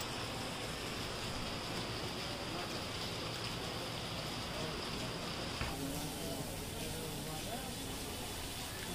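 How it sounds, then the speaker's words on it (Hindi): Heavy rain pours down steadily outside a shopping center, a dense continuous hiss that fills the whole stretch at an even level, with a slight shift in tone partway through. "यार अभी तो बहुत तेज बारिश हो रही है।"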